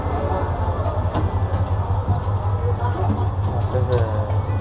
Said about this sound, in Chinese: 这个就是泰国的普通火车